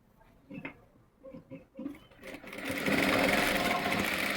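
Sewing machine stitching a pocket onto palazzo pants, starting after a few soft handling sounds and then running steadily and loudly for the last half.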